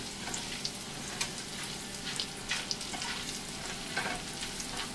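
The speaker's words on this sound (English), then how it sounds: "then they go right into the pan and cook" Venison loin steaks, seasoned with salt, pepper and a little oil, searing in a hot pan with a dense, continuous sizzle and frequent spitting pops, close and loud.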